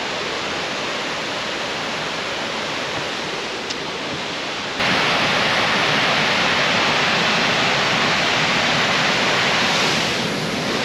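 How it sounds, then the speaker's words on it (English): A loud waterfall roars with a steady, rushing wash of water that grows noticeably louder partway through and stays thunderous to the end. "Now that's a waterfall."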